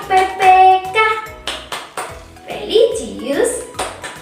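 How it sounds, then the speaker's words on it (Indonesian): A teacher leads children in the rhythmic tepuk PPK clap chant in a classroom lesson, sharp clap patterns alternating with sung and spoken chant phrases, with clapping close and voices running over it. "ayo anak-anak kita lakukan tepuk PPK terlebih dahulu"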